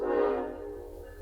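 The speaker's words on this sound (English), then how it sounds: "Trains here." A train horn sounds outside, a loud sustained blare that fades over about a second, heard alone without talk.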